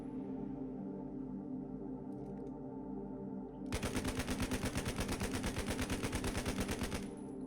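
Machine gun fire in the World War II shooter game Hell Let Loose: after a few seconds of low ambient rumble, a loud, steady, rapid burst of automatic shots runs unbroken for about three and a half seconds.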